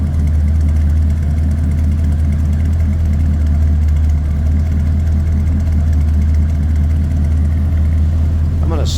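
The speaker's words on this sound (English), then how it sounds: "we got a nice deep throaty exhaust note coming out of that true dual exhaust" A 1977 Chevrolet El Camino with true dual exhaust idles steadily, a deep, throaty low rumble held at an even level throughout, close and continuous.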